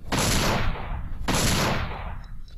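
Gunfire from the PS1 game Dino Crisis 2 on hard difficulty: two loud, booming shots about a second apart, each with a long reverberant tail, heard alone without talk.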